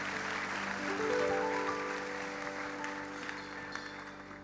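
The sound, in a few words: congregation applauding at church Christmas service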